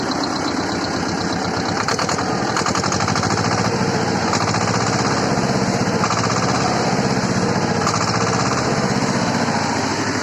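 A T-25 tractor's diesel engine runs steadily just after starting, a loud, rapid, rattling chug that holds even and close for the whole stretch without any voices.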